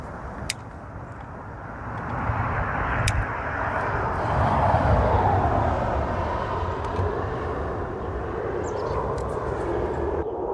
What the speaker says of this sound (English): And a jet.